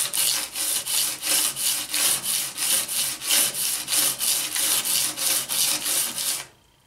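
A jointer knife blade is drawn back and forth across a sharpener in even, rhythmic rasping strokes, about fifteen close scraping passes in steady succession before stopping abruptly.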